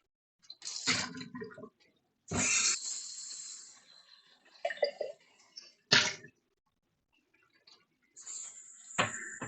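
Fresh filtered water is poured into a container for aquarium pothos cuttings, heard as several separate bursts of splashing and trickling with quiet gaps between them, close and fairly soft.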